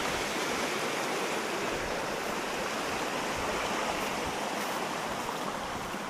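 Cold creek water flows and splashes steadily, a dense, close, continuous rush with no pauses, alone with no voices.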